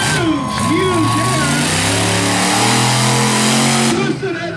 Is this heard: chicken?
no